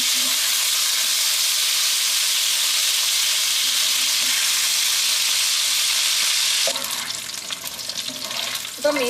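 Fish fries in hot oil in a pan for a Kerala fish pickle, giving a loud, continuous sizzling hiss; near the end it breaks into crackling and spattering as the pieces are turned over.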